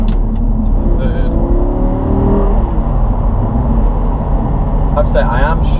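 A manual 2012 Audi R8 with its V10 mounted behind the cabin drones steadily as it pulls through the gears, a loud continuous engine note heard from inside the car with a voice talking over it.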